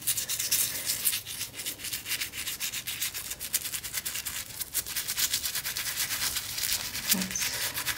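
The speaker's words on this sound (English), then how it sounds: "scrub all of my 3 days worth of energy off of this little baby." Close, steady rhythmic scrubbing of an enhydro crystal with soap and water, a rough continuous rubbing that keeps a fairly even level for several seconds, with no talking.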